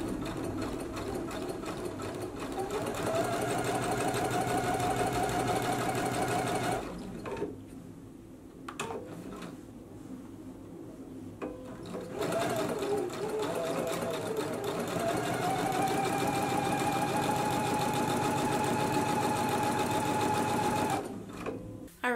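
A sewing machine stitches rows of basting along a blouse neckline, running in long steady whirring bursts with a short pause in the middle before resuming at a slightly varied pitch.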